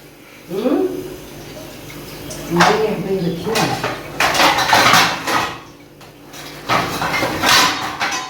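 Pots and dishes clatter and clang in a household kitchen, several sharp bursts of metal and crockery knocking together at close range, with people talking in between.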